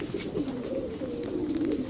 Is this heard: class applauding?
no